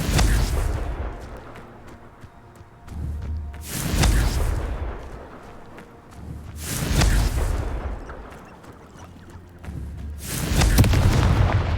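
Confringo blasting spell explosions in the video game Hogwarts Legacy: several heavy, booming blasts a few seconds apart, each rising out of steady low combat rumble, with no talking.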